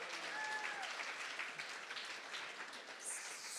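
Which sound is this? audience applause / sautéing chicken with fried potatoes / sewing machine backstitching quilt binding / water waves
audience applause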